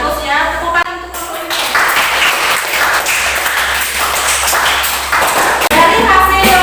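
A class gives a loud, dense round of applause that holds steady for several seconds after a teacher's brief talk.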